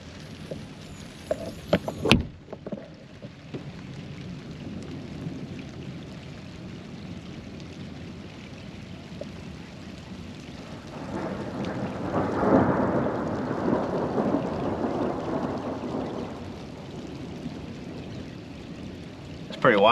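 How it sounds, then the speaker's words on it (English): Rain patters steadily on a truck camper during an early-morning thunderstorm, a sharp crack near the start giving way to a long, swelling rumble of thunder midway through. "it's still raining"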